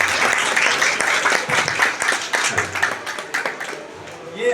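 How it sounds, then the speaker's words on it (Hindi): An audience at a community event applauds to welcome a guest onto the stage, with sustained, fairly loud clapping that gradually thins out, and some voices heard among the claps. "जरा जोरदार तालियों से स्वागत कीजिए"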